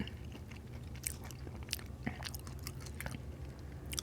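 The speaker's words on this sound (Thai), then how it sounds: "กุ้งเขาทำยังไงให้มันกรึบขนาดเนี้ย" Crispy soy-pickled shrimp is bitten and chewed up close, giving a run of sharp, irregular crunches and crackles over a low, quiet background with no speech.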